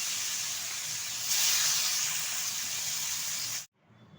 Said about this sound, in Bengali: এখন দিয়ে দিচ্ছি কড়াই তেলের মধ্যে, আর এটা কিন্তু উল্টে পাল্টে ভালোভাবে ভেজে নেব।